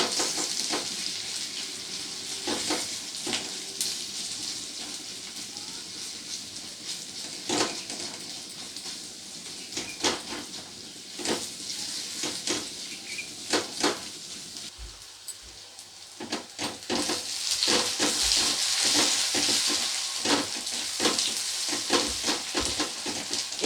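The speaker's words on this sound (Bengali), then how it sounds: "পেঁয়াজটাকেও একইভাবে লাল লাল করে ভেজে নেব" Sliced onion sizzles and fries in hot oil in a pan, cooking until reddish brown, with a steady bright crackle and scattered sharp pops and stirring clicks, continuous and close throughout.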